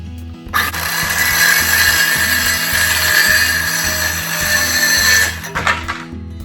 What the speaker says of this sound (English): Replacing the clamps once I have moved the board down for the new cut.